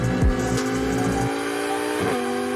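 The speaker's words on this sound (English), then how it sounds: "Titanium exhaust" Lamborghini Huracan with a titanium exhaust revving loudly up close, a sustained high engine note with a sharp blip at the start and another rising rev near the end.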